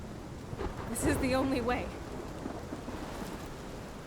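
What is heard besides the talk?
rain and thunder, from video game Life Is Strange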